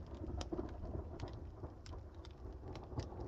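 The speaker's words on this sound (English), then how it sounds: "you can hear that thunder." Distant thunder rolls in a low continuous rumble during a Rocky Mountain hail and lightning storm, with steady rain and hail patter and scattered sharp drop impacts throughout.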